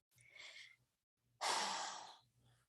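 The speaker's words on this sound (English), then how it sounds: "We're gonna take a breath." A person draws a slow breath in, then lets out a louder, longer sighing exhale, close and quiet, followed by a softer breath.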